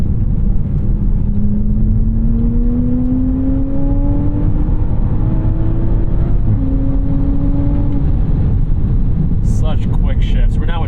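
A track-prepped 2021 Toyota GR Supra accelerates hard from inside the cabin, its engine note climbing and snapping down with quick gear shifts under a constant road rumble, and a voice cuts in near the end.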